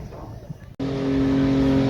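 A drift car from the Skidfest 21 event idles loudly at close range as it is driven onto a trailer. A short clunk is followed by a steady, droning engine note.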